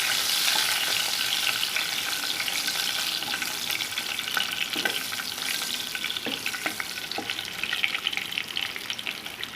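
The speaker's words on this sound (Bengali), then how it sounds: "এগুলো একটু ভেজে নেব।" Bay leaves and dried chillies frying in hot oil give a steady close sizzle with crackling pops and occasional stirring clicks from the pan throughout, with no voices.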